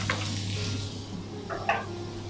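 Butter sizzling in a pan with a soft steady hiss, a low hum beneath, and a couple of brief stirring or utensil scrapes near the end, close and fairly quiet.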